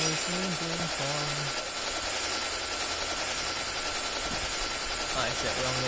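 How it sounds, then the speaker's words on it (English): A stealth helicopter in the Call of Duty Mobile video game whirs steadily throughout, a loud continuous rotor drone mixed with game sounds and short voice lines. "Friendly stealth chopper inbound."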